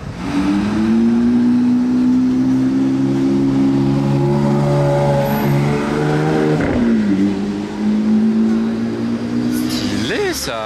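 A Porsche GT3 sports car passes on a street in Monaco, its engine a strong steady drone that holds and then shifts pitch as it goes by, loud and near, with no talking over it.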